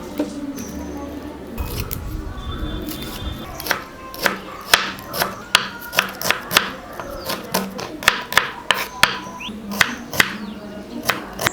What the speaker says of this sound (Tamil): சின்ன வெங்காயத்தை உரிச்சிட்டு பொடி பொடியாக கட் பண்ணி எடுத்து வச்சுக்கலாம்